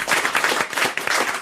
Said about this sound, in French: On va applaudir Charlotte de Turquie.